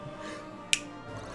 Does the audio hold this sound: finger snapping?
yes